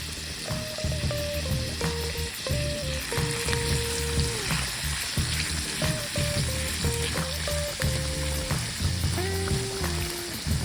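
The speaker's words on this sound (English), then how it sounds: "We want to saute these vegetables with a little garlic salt, and I use some olive oil to saute them." Vegetables sauté in olive oil with garlic salt, a steady, close sizzle and hiss with stirring scrapes throughout, while faint music plays underneath.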